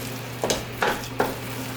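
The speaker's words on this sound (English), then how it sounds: "And as I stir it, it's all about rehydrating the cornmeal with that coconut milk." A spoon stirs cornmeal and coconut milk in a pot for corn cou cou, making three soft, thick scraping strokes about a second apart against a quiet background hum.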